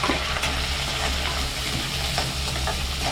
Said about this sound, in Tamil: எடுத்து வச்சிருந்த வெங்காயத்தையும் கருவேப்பிலையும் இதுக்குள்ள சேர்த்துக்கலாம்